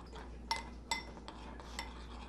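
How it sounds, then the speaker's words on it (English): A spoon clinks against a bowl while flour and cinnamon are stirred together, with a few sharp metallic taps standing out over soft, low scraping. "stir that together with a spoon till it's all combined"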